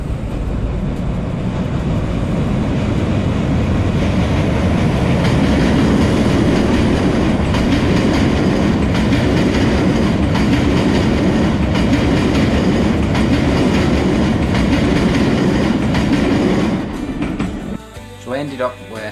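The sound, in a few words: Jacobite steam train passing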